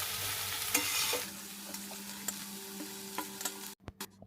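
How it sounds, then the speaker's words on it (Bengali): Cabbage cooked in a pan without water is stirred with a utensil, giving a steady close sizzle and frying hiss with scattered scraping ticks, then a few louder knocks of the spoon against the pan at the end. "একটু ওপর নিচে করে দিলাম পুরোটা"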